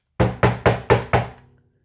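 Five firm knocks on a door in an even, quick rhythm, each sharp and close with a short decay, then quiet.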